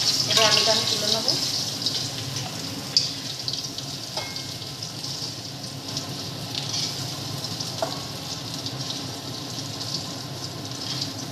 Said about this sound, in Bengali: আমার আলু ভাজা হয়ে গেছে লাল লাল করে।